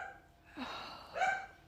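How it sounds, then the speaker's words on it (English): A dog lets out two short whimpering yelps, with a brief gap between them, in a quiet indoor room, fairly close and moderately loud. "can you hear this dog?"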